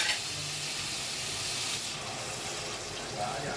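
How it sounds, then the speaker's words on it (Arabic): Tomatoes tipped into a hot pan of vinegar-and-garlic moussaka, giving a steady, close steaming hiss that holds throughout and fades slightly near the end. "هنزل بقى ايه الطماطم بتاعتي"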